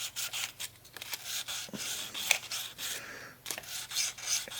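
A small hand file scrapes over metal mechanism parts from a 1976 Gottlieb Target Alpha pinball machine, giving close, repeated short rasping strokes in an uneven rhythm with brief pauses.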